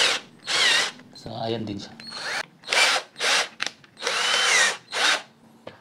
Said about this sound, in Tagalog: So, try natin itong ikabit yung screw bit, pang screw na bala.